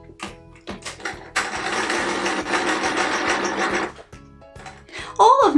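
Sewing machine stitching a Peter Rabbit patchwork quilt appliqué, a close, buzzing whir in bursts with a longer steady run in the middle, stopping and starting, followed by a voice at the end.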